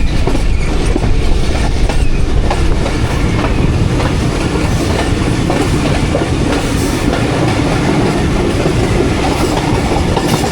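Jaffar Express running past small Sanjwal railway station, a sustained, loud rumble of carriages with steady clickety-clack wheel rhythm heard from on board for the whole stretch.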